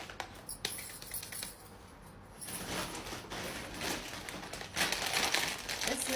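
A chips bag crinkles and rustles as it is torn open, the crackling growing louder and busier toward the end, with faint background noise and no clear talk.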